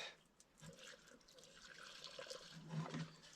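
Engine oil trickling and running out of a seized engine while it is being worked on, a quiet, steady liquid flow that swells a little toward the end.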